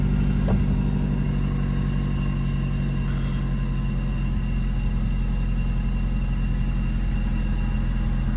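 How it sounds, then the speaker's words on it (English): A 2002 Nissan Sentra SE-R Spec-V engine with a newly replaced throttle body idles with a steady low rumble, a faint click near the start and an even drone throughout. "So I'm going to start the car."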